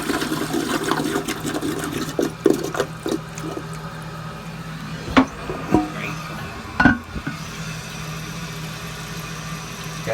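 A 1959 Standard Compton toilet with a Mansfield flush tower and handle flushing, a rushing water drain with gurgling surges and a few sharp clunks, steady and close.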